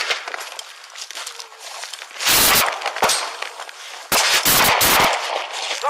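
Gunshots ring out during a police altercation with an armed suspect, a few loud sharp cracks in quick bursts over a noisy, chaotic background.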